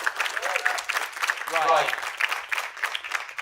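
An audience applauds panel guests at a COP28 hangout event, moderate clapping that runs under someone speaking briefly.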